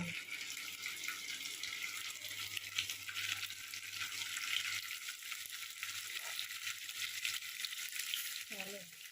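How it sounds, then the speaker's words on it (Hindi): Paneer fries in hot oil in a pan, giving a continuous close sizzling hiss with faint clatter of stirring and a low hum underneath. "पैन में तेल गरम हो सारा एवं पनीर की फ्राए करदे"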